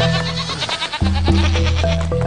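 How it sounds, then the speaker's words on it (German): Goats bleat in a quick series of loud, close, wavering calls, several voices overlapping and running back to back with no pause. "Das sind Ziegen."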